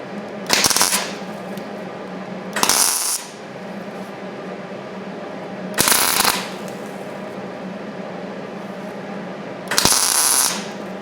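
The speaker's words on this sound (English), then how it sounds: "I'm just gonna keep welding other stuff now" Welding steel patches onto a junkyard Cadillac body, four loud bursts of crackling, sizzling arc noise separated by quieter gaps with a low steady hum, close up and with no talking.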